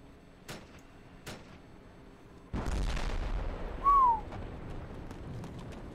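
Explosions and gunfire in the video game Arma 2 Operation Arrowhead: two sharp distant reports, then a loud sustained blast rumble with a brief whistling tone over it, fading into background noise.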